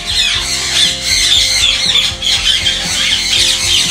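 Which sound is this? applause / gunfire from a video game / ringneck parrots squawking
ringneck parrots squawking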